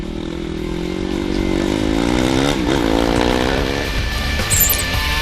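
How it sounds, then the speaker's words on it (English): KTM and Honda rally motorcycles racing on Dakar 2014 stage 1, a loud sustained engine roar rising and falling in pitch as bikes pass nearby, with no talking. "his early pace was just below that of the chasing KTM and Honda, of Coma and Bereda"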